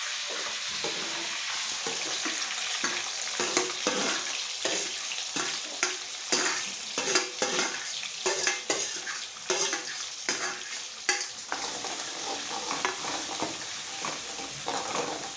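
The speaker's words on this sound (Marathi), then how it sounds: "त्याच्यामध्ये तेल सुटेपर्यंत परतून द्यायचं" Paneer masala being sautéed and stirred in oil in a pan until the oil separates: steady close sizzling frying with repeated scraping stir strokes throughout, no talking.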